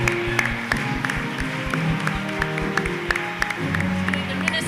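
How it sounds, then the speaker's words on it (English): Audience at a St. Paul mayoral forum applauding a candidate, scattered hand claps over crowd murmur with sharp individual claps standing out and some talk mixed in. "So please, a big round of applause,"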